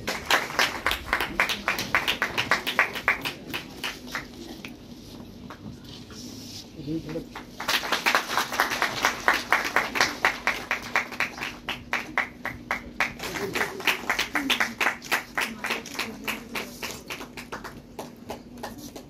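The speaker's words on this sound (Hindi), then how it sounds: "इनका भी जोरदार तालियों से स्वागत किया जाए।" Audience at a women's party workshop in a party office applauds to welcome guests, dense clapping filling most of the span with a brief lull midway, while a voice speaks over it.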